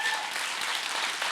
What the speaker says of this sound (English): can we give a round of applause to the band and all of them?